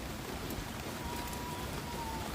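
Heavy rain falls in a steady, loud wash of hiss and patter, continuous and near, with no voices over it.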